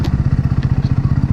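A motorbike rides slowly along a rough, deserted forest road on NH 8 between Tripura and Mizoram, its engine thumping in a steady rapid pulse close by, with faint clatter over the bumps.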